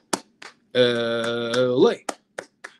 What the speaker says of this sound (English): it's time to get your hands up, Bruins fans. Eight clap time, baby.